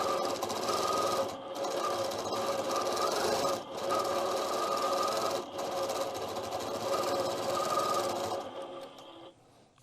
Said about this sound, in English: It takes more time to pull up your thread and trim than it does to actually do the quilting of the feathers